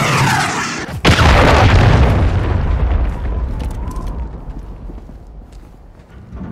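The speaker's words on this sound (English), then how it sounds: "Hostiles launched a cruise missile." An incoming cruise missile explodes in the Modern Warfare 3 video game, with one sharp, loud boom followed by a heavy rolling rumble that slowly dies away over several seconds.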